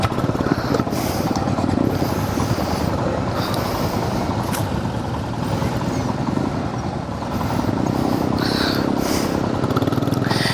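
Motorcycle engines run loud and close as a group of riders sets off on a long-distance Mumbai to Ladakh ride, with a continuous rumbling drone throughout and brief sharper revs.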